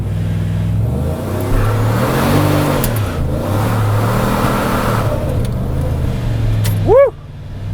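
A Chevrolet Silverado pickup's engine revs and pulls hard under acceleration on a low-traction road, rising and falling in repeated surges close by, ending with a sharp high-pitched whine and brief tire chirp.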